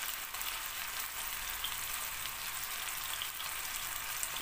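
Hot butter poured over sauce on warmed döner meat sizzles in a steady, dense hiss that stays even and moderately loud throughout, with no voices.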